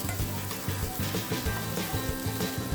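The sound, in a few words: onions frying in tempering oil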